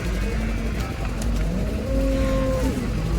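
A Jersey cow lows in a long, steady moo near the end, rising over a constant rumble of farm background noise with no talk.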